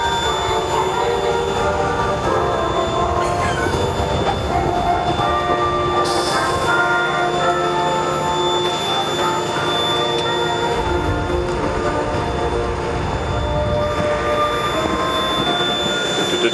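A loud, continuous mechanical roar with whining engine tones and rumbling wheels, steady throughout, as Elvis Presley's airplane is driven down a road close by at Elvis Week 2025.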